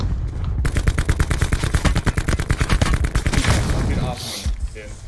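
Rapid bursts of automatic gunfire from an online solo-mode shooter match, loud and close, running in a dense rattling stream for most of the span before easing near the end.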